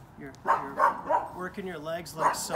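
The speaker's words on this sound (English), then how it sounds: "That's my dog. That's a bit of a nuisance." A pet dog barks in short, separate yaps in the background while a person speaks steadily over it.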